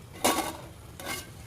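A spoon stirs ridge gourd and tomato curry in a pan, giving two short bursts of scraping and soft sizzle separated by a quiet pause, close up with no voices.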